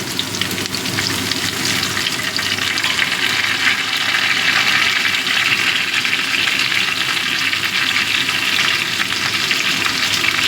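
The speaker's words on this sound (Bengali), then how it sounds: "টমেটোটা দিয়েও মিশিয়ে নেবো" Cauliflower and tomato sizzle steadily in a hot frying pan while being stirred, a continuous close, loud crackling hiss with no speech.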